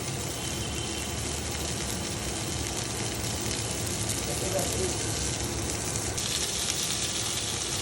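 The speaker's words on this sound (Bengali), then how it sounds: "এই পেঁয়াজটা এরকম ভাজা ভাজা হয়েছে" Onions frying in a pan for a kachki fish chochchori, a steady broadband sizzle running continuously at even loudness throughout, with a voice speaking over parts of it.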